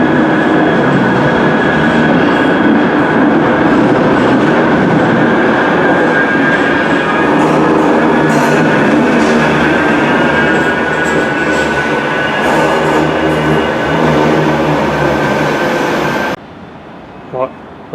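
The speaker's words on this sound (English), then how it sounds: "We'll watch a couple of trams from here." Trams in Manchester roll past with a steady rumble and rising electric whine for most of the stretch, loud and close, before the noise cuts away abruptly near the end.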